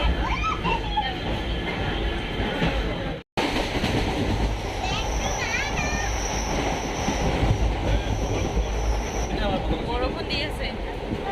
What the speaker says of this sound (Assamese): আমাৰ ট্ৰেইন এৰিলে এতিয়া বক গৈ আছোঁ